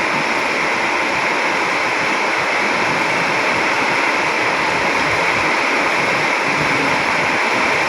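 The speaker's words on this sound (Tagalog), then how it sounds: "Lakas ng buhos ng ulan." Heavy rain pours off a roof in a steady, dense rush of splashing water, loud and unbroken throughout with no voices.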